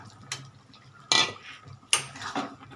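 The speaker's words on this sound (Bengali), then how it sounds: "নাড়তে থাকি একটু।" Spoon stirring sour yogurt water in a cooking pan, a few sharp metallic scrapes and clinks spaced apart, close and fairly quiet, with no talking.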